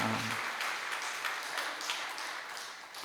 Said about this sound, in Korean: 큰 박수로 하나님께 영광을 올려드리겠습니다